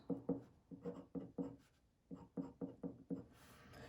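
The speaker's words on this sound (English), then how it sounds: "So I'll just write it like this." Pen strokes scratching across paper while chemistry notes are written, a quiet close run of short rhythmic bursts in two groups with a brief pause between.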